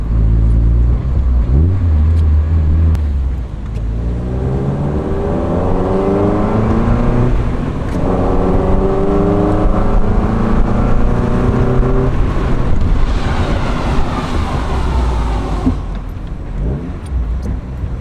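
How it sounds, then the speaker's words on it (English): A Mazda NB Miata with race brakes accelerates loudly, its engine droning steadily, then decelerates hard as the brakes lock up in a long skid, with no talking. "Locked up those brakes real good."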